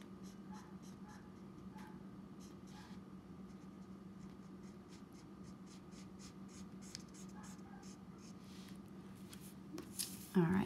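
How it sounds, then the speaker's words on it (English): Copic alcohol marker laid flat and drawn across paper, coloring an ocean scene, giving soft, steady scratchy strokes that repeat at close range over a low, constant room hum. "lay the marker down flat and just bring it all the way"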